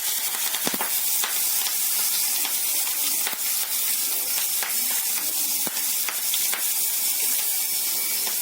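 Curry leaves and green chillies sizzle steadily in hot oil for an upma made from rice balls, giving a continuous close frying hiss with scattered sharp pops and crackles. No one speaks.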